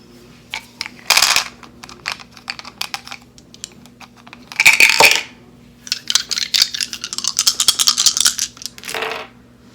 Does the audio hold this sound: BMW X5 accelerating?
no